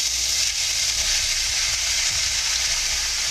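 Tofu sizzles steadily as it browns in a hot pan, a continuous bright frying hiss at close range with no pauses and no talk.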